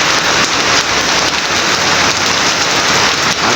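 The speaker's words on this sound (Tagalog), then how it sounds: "lakas ng ulan dito" Heavy rain pours steadily outdoors at night near a lamp post, a loud, continuous hiss of drops drumming on surfaces with no break.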